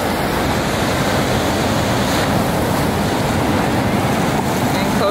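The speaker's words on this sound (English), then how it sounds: "The water about to come up on the rocks." Ocean waves surge onto rocks near sea caves on the coast of Bali, a loud, continuous roar and wash with wind buffeting the microphone throughout.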